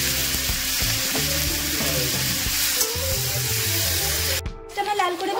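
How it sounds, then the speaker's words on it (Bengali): Crushed onion hits hot oil with a loud, steady sizzle while a spoon clatters faintly in the pan. The sizzle breaks off briefly near the end. "সেই পেঁয়াজ ছাঁচাটা আমি দিয়ে দিচ্ছি।"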